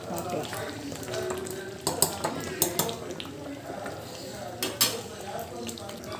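Food frying in a pot on a medium flame: steady sizzle with a utensil stirring and clinking against the pot in several sharp knocks, close and moderately loud.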